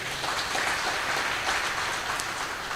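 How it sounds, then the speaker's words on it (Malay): Audience applause for event organisers at a forum on interfaith harmony, dense, even clapping that holds steady and loud throughout. "boleh bagi tepukan kepada mereka"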